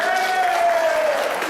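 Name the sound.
audience applause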